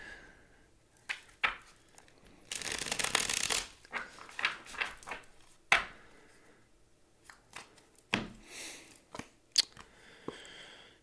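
A tarot deck being shuffled up close, with crisp riffling bursts and papery flicks separated by short pauses.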